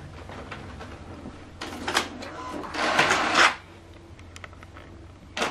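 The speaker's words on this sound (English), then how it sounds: "Now this document is printing." An HP DeskJet 3775e inkjet printer prints a document, with intermittent mechanical whirs, clicks and short bursts of paper-feed rattling, moderately close and uneven in rhythm.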